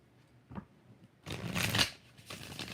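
Tarot cards are shuffled by hand. A short riffle comes first, then a longer, louder run of crisp flapping and slapping cards, then a softer final shuffle. All of it sounds close, with no talking.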